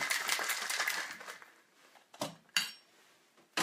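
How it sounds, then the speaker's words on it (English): A cocktail shaken hard in a lidded shaker, a fast, quiet rattle of ice for about a second and a half, followed by a few separate clinks and knocks. "Gonna shake it up."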